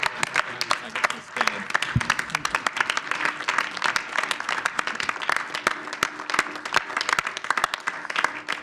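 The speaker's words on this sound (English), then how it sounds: "So if we could give a round of applause." Applause at a village board meeting in La Grange, many hands clapping in sharp, closely packed bursts that run continuously, with a brief voice mixed in near the start.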